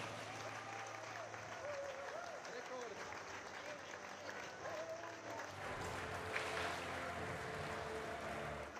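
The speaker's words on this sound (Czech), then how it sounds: "a velký potlesk" Crowd applause rings out in an indoor athletics hall for the winner, Sarah Mitten, steady and roomy beneath a public-address announcer's voice that carries over much of it.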